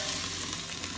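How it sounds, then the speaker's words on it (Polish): Chicken breasts sprayed lightly with olive oil sizzle in a preheated air fryer set to 180 degrees, a steady, close, dense frying hiss with no talk. "Od razu się smaży."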